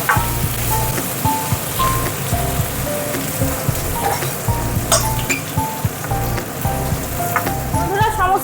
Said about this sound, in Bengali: এইদিকে বন্ধুরা আমার চিংড়ি মাছটাও ভাজা হয়ে গেছে, চিংড়ি মাছটা তুলে রেখে দিই।